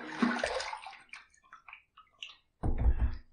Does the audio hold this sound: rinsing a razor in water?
yes